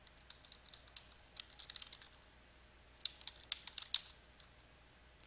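Quiet keystrokes on a computer keyboard come in two irregular clusters of soft, close clicks over a faint background hiss, with no talking.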